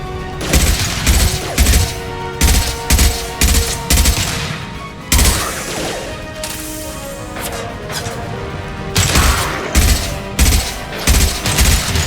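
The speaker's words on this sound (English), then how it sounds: "Firing concussive shot!" Loud sci-fi gunfire and a concussive shot in Mass Effect 2 combat: rapid repeated volleys of shots with short gaps, and a heavier blast near the middle.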